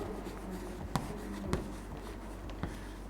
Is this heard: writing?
yes